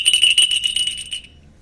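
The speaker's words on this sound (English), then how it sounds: "Where's my bell?" A small bell rings rapidly with bright, repeated strikes for about a second, then its tone fades away into silence, heard clearly and close with no talking.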